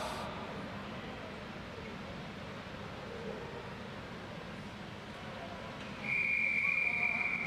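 A single sustained whistle blast rings out near the end, loud and steady, starting a cycling omnium race at a national championships, over constant crowd and venue noise.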